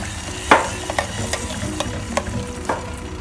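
Pork belly braising gravy simmers and thickens in a small pot, with soft bubbling and a few distinct stirring scrapes and taps of a utensil, close and moderately quiet.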